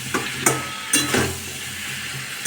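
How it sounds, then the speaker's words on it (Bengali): Food sizzles in a pan with a steady, fairly loud hiss, broken by a few quick scraping stirs and light clinks of a utensil. "রান্না চলছে।"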